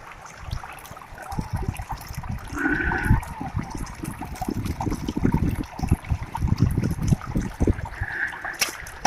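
Water running steadily through a gold prospecting sluice loaded with a bucket of dirt, a continuous rushing trickle with bubbling and scattered knocks and splashes, close and fairly loud throughout.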